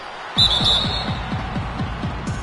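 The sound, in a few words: referee whistle for a foul in NBA 2K video game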